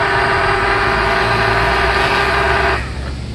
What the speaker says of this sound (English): I'm getting a lot of desync with the motors. The motors aren't working, the ESCs aren't driving the motors properly